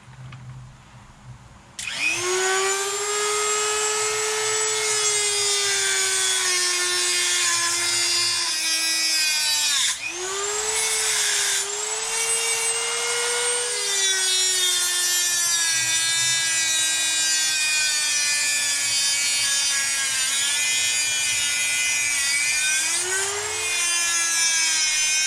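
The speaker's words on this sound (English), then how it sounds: "Get my cutting wheel back into it." A rotary tool with a cutting wheel whines loudly and steadily while cutting parts for an Arrma Felony RC car, its pitch dipping briefly under load and then recovering, close and continuous for over twenty seconds.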